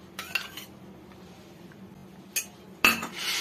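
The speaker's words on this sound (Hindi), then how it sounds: "इसे डालकर अच्छे से मिक्स कर देते।" A spoon mixing curd and spices into a soya chap marinade in a bowl, soft clinks and scrapes in three short bursts with quiet gaps between, close and alone.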